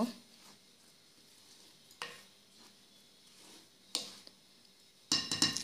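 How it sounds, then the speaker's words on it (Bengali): Cocoa powder and flour being stirred together in a bowl for a chocolate cake, soft scraping strokes with a few sharper clinks and knocks at intervals, quiet and close with no talking. "দু টেবিল চামচ দিয়ে ময়দার সাথে একসাথে চেলে নিয়েছি এখন ভালোভাবে মিশিয়ে নেব"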